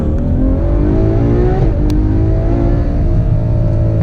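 A Ferrari 812 Superfast's V12 pulls away from a standstill in first gear, a loud, steady engine drone with rising harmonics that dips briefly around a shift point, heard close from inside the cabin with no talking.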